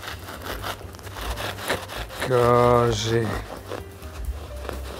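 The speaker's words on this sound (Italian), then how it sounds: "coltello a sega" A serrated bread knife saws through a baguette in a kitchen, giving a loud, rough rasping burst of strokes in the middle, with someone talking before and after.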